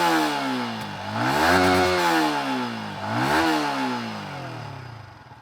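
Yamaha XSR 155 motorcycle exhaust note, the engine revved twice from idle to a high rasping pitch and back down, close and loud, then settling to a steady idle.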